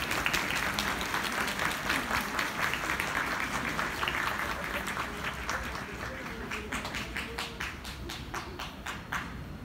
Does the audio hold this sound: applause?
yes